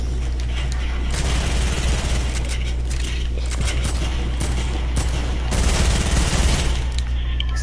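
Rapid gunfire in a video game played on PS4, dense fusillade bursts of shots crackling over a steady low rumble, with heavier volleys near the end and loud, continuous intensity.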